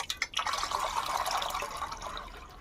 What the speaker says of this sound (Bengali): এইভাবে জলটা আমি ছেঁকে নেব